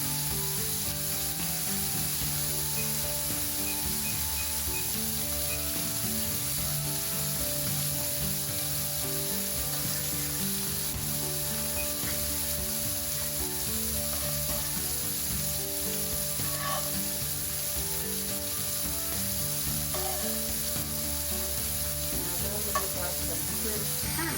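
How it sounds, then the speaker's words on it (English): Potatoes fry in a pan beside steaks, giving a loud, steady sizzle for the whole stretch. A few scrapes and soft knocks mark them being turned partway through, and no one speaks. "Now I'm going to start flipping our potatoes."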